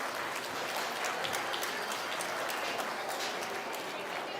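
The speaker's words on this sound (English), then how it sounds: "Let's give all those kids an enormous round of applause as they head on back" A crowd at the North Idaho State Fair applauding kids leaving the swine showmanship ring, a dense continuous wash of clapping that fills the space with a faint voice blended underneath.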